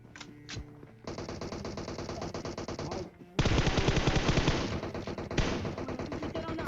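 Rapid automatic gunfire bursts from PUBG Mobile, with sustained loud volleys of shots and brief pauses between strings of fire.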